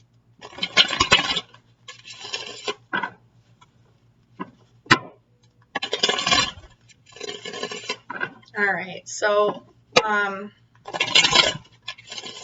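Tarot cards being shuffled in bursts of crisp riffling and flapping, several separate shuffles with short pauses between them, close to the mic, with a few spoken words.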